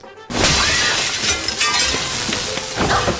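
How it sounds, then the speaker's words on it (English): Glass shatters loudly in a TV episode of Buffy the Vampire Slayer, a sharp crash followed by a spread of tinkling, clinking fragments that scatter and settle over a few seconds. "Broken glass?"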